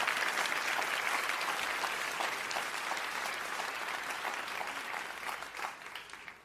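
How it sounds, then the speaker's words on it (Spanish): A church audience claps and cheers loudly and steadily, a dense sustained roar of applause that slowly fades toward the end, with no voices above it. "si vas a aplaudirlo con más ganas el día de hoy"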